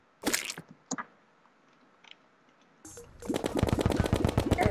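Gunfire in Terraria, a few isolated sharp shots followed by a long rapid burst of evenly spaced crackling bursts, loud and close, with no talking over it.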